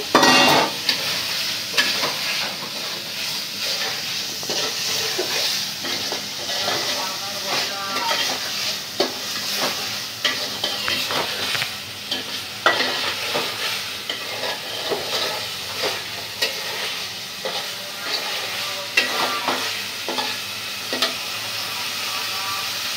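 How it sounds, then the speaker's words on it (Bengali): Fried eggs being stirred with cooked spice masala in a pan for egg korma, giving a continuous loud sizzle broken by repeated scraping spatula strokes, close up throughout. "এখন আমি ডিমটা দিয়ে কষাই নেব।"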